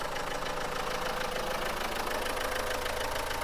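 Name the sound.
used car diesel engine running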